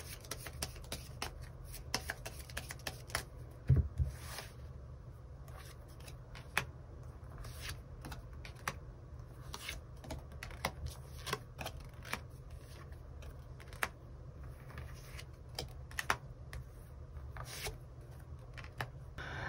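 Tarot cards are shuffled and drawn, producing a long run of quiet, close clicks, flicks and papery rustles in an irregular rhythm, with occasional sharper snaps.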